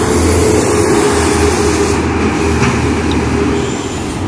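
A bus rumbles past on a road near Cileunyi, its loud, steady engine drone and tyre noise filling the scene. It fades slightly as it moves on.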